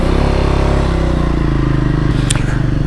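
A Triumph Scrambler 400X motorcycle engine, 400cc, runs steadily and loud up close while riding, with a constant throbbing drone and a brief clatter near the end.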